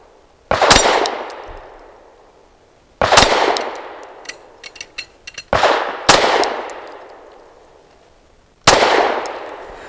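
Four loud, sharp pistol shots from a Kimber R7 Mako Carbon Compact fire at uneven intervals, each with a long decaying echo, and a quick cluster of faint metallic clicks sounds between the second and third reports.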